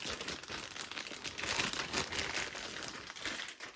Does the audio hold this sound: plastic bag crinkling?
yes